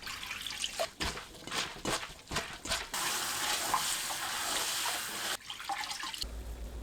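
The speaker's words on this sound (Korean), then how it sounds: "물에 조물조물 헹궈냅니다" Seaweed stems rinsed and squeezed by hand in a basin of water, with close sloshing, squishing and dripping that shifts into a steady rushing of water from roughly the third to the fifth second.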